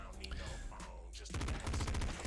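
Enemies firing rockets in the video game Nuclear Throne, a dense burst of rapid explosive game shots breaking out after a quieter start, loud and continuous, with a voice talking over it.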